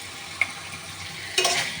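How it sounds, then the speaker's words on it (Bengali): A steel spatula scrapes and stirs spice paste frying in mustard oil for a red rooster chicken curry, with a steady sizzle throughout and two sharper scraping strokes near the start and end. "মশলাটা একটু ভালো করে ভুনে নেব। পাশে লাগিয়ে আছে, এটা দিয়ে লাড়া হয় না বলো, আমি খুন্তি দিয়েই লাড়বো।"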